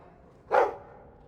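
In the Dragon Age 2 video game, a dog gives a single short, clear bark against a quiet background.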